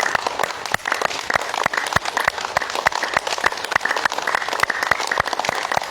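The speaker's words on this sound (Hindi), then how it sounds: "आप बजाते रहें ताली बजाते रहें।" A yoga class claps hands without pause in a fast, steady rhythm of sharp, dense claps that continues through the whole stretch, with faint voices underneath.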